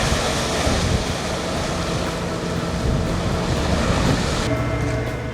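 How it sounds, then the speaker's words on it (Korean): A croaker fishing boat heads out to sea in calm water, its engine droning steadily under a broad wash of wind and water noise. The sound is loud and continuous, with no voices. "잔잔해진 파도에 드디어 바다로 향하는 조기잡이 배."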